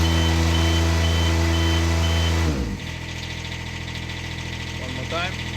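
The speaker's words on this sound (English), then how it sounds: "So engine is running. Set it high revs." A loud engine on a Niftylift TD120T/TD34T access platform revs high and steady, then drops abruptly to a lower, rougher idle partway through.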